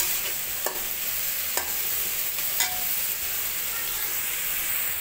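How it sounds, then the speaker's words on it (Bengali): Vegetables, including beans and cabbage, stir-fried in a wok for oats khichuri: a dense, even sizzle close by with a few light utensil taps against the pan, no voices. "এখন আমি সুন্দর করে সবজিগুলো প্রথম ভাজা ভাজা করব"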